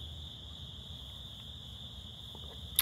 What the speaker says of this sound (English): Listen, crickets,